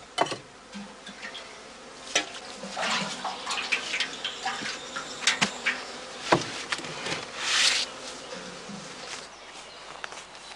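Bees buzzing around a straw skep baited with sugar syrup, set out in the open in Germany; a steady hum with close insects darting past in short, louder passes.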